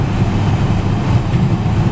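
A steady, low engine rumble from a car with its stock exhaust holds evenly throughout, a continuous deep drone with no voices over it.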